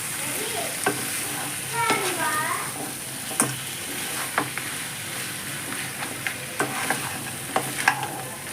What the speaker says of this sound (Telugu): ఇవంతా మసాలాలు ఇవన్నీ పీతకు పట్టిలా ఒకసారి కలిపేసుకుని